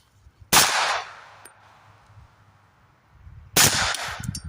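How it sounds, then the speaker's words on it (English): Two suppressed 300 Blackout subsonic gunshots, 190 grain Sub X loads fired through an Omega 9K 9mm suppressor: sharp muffled cracks about three seconds apart, each with a short fading tail, near and loud. "190 grain Sub X through the Omega 9K 9mm suppressor"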